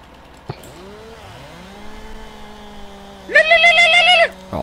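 A chainsaw in Farming Simulator 19 starts into a loud, high buzzing whine for about a second near the end, after some quieter engine drones with sliding pitch and a sharp knock; no speech.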